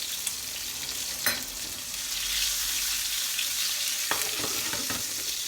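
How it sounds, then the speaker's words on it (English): Cherry tomatoes sizzling in a very hot frying pan while cooking penne pasta with capers and chilli; a steady close crackling hiss with a few stirring knocks and clatters, no talking. "So get the cherry tomatoes in."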